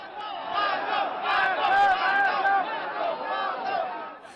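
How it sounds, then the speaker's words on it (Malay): A large crowd of supporters shouts "Masuk" together in rising and falling waves, a dense roar of many voices that stays loud and continuous throughout. "diiringi dengan sorakan "Masuk" oleh para penyokong"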